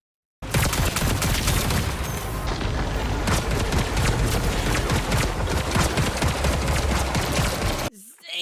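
Rapid sustained gunfire from the Volt Pistol in the video game Marathon, a loud, dense stream of shots with booming impacts running continuously for several seconds before cutting off abruptly.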